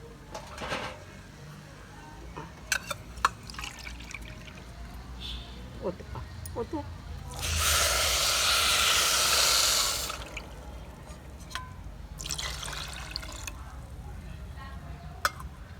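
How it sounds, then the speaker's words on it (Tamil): Three cups of water poured onto jaggery in a cooking pot, a steady splashing pour lasting a few seconds in the middle, with scattered clinks and taps and quiet talk around it. "ஒரு மூணு கப்பு தண்ணி ஊற்றிருக்கேன்ப்பா"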